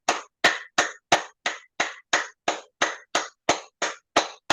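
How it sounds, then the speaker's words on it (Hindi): A steady run of about fourteen crisp hand claps made above the body during a yoga and acupressure exercise, close and loud, keeping an even brisk rhythm with no speech. "शरीर के ऊपर ताली"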